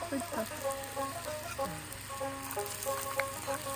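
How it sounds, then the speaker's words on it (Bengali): Onions and chopped garlic fry in a pan in a toy mini kitchen, giving a steady, moderately quiet crackling sizzle with a few sharper pops throughout. "এখানে রসুন কুচি হচ্ছে, পেঁয়াজ ভাজা হচ্ছে।"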